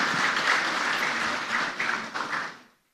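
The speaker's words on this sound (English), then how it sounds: "So let me hear the energy of your clap." An audience at the IMT 2023 event claps together in a dense burst of applause that holds steady, thins into scattered claps and then stops.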